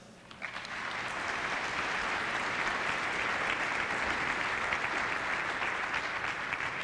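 A hall audience breaks into steady applause to welcome a marketing speaker, clapping that rises quickly and holds as a dense, even wash for several seconds.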